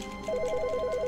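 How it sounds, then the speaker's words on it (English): A telephone rings in The Stanley Parable, a rapid, bright electronic trill that starts after a brief pause and repeats steadily, clear and close with nothing else over it. "Let me answer the phone."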